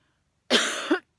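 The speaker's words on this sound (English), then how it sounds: "Somebody built a bonfire nearby, which is making me cough" A single harsh cough from smoke of a nearby bonfire, close and abrupt, lasting about half a second with a rough burst at the end, surrounded by silence.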